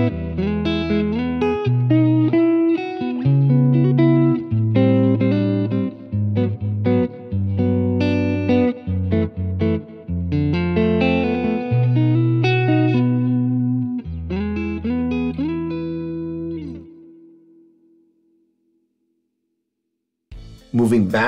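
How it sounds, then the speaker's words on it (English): A Fender Player Plus Telecaster through a Fender Mirror Image Delay into a Tone Master Deluxe Reverb plays a melodic passage with echoing repeats and lush reverb, notes decaying into silence before a brief final strum. "you're also going to hear a little bit of the Fender Mirror Image Delay going into the Tone Master"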